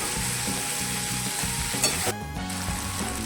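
A cashew and dried chili mixture with ginger and garlic cooks in a pan, a loud continuous sizzle with occasional stirring scrapes and a brief clatter near the end, close up and without voices.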